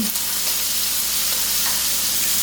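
Diced onion hits a hot pan for green fig and saltfish, giving a steady, loud, broadband sizzle that holds evenly throughout, with a few faint scrapes and no talking.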